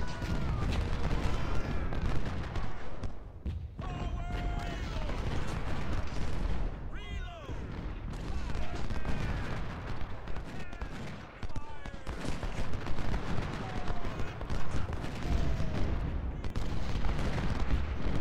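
Massed musket and artillery fire from a Civil War battle at Bull Run near the Matthews farm in the strategy game Ultimate General: Civil War, a dense continuous crackle of gunfire with scattered booms, while someone talks over it throughout.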